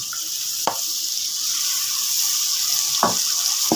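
Chicken nihari base with garlic, ginger and green chili paste sautéing in a pot: a steady, close hiss of frying runs throughout, broken by a few brief clinks or scrapes of a spoon.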